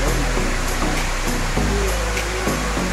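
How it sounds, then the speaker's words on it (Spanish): Los Tercios waterfall in Suchitoto, El Salvador, heard as a dense, constant rush of falling water, loud and close, with a faint low tonal bed beneath it. "qué piensas de esta cascada, de esta caída de agua que se llama Los Tercios aquí en Sisitoto"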